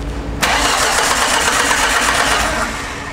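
A car's starter motor cranks loudly and continuously for about two seconds, a rapid whirring churn, but the engine never catches and the cranking stops abruptly.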